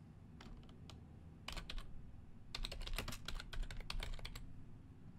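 Fingers typing a list name on a computer keyboard, heard as a run of crisp, close key clicks in irregular bursts with short pauses, alone without talk.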